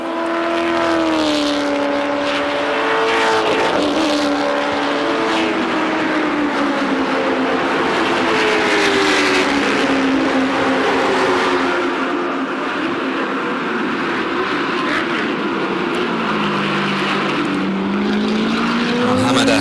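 Chevrolet Lumina V8 race cars roar around the Bahrain International Circuit. Loud, continuous engine notes rise and fall in pitch as the cars accelerate and shift, with no break throughout.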